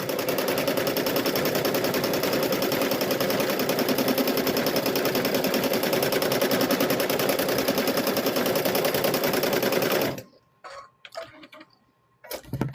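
A sewing machine quilts a Halloween gnome wizard tote bag in a fast, steady run of rapid stitching for about ten seconds, then stops, leaving only a few faint clicks and handling noises.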